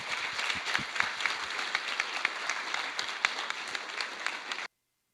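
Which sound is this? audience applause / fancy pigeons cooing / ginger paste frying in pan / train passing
audience applause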